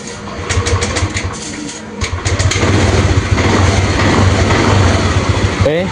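A Yamaha Aerox scooter engine, repaired after a ruined camshaft bearing, idles steadily and smoothly up close with a low, even hum, briefly dipping around two seconds before settling back into a continuous loud drone.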